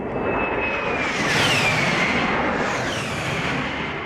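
An A-10 Warthog jet flying low overhead, a steady loud roar with a high descending whine sweeping through as it passes, then fading.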